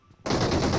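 A sudden close burst of rapid automatic gunfire erupts in PUBG after a brief near-silent moment and continues loudly to the end.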